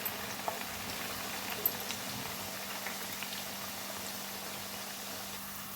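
Sliced potato chips fry in hot oil with a soft, steady bubbling and faint crackle, fairly quiet and continuous, with no talking.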